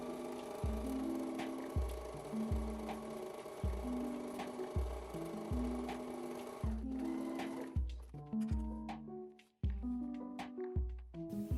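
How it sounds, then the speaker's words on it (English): Sewing machine stitching the side of an apron's fabric in a steady run of short bursts, each a rhythmic mechanical whir with brief pauses between seams, fairly close and alone. "I'm just gonna sew on top of the bicep from the sides."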